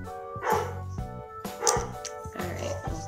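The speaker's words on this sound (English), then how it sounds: "Oh, dogs are barking." Dogs bark in three bursts of sharp, repeated woofs, fairly close and loud, with short pauses between each round.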